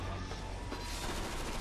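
Rapid automatic turret gunfire in the video game Resident Evil 6, a dense continuous rattle of shots at steady loudness with no speech over it.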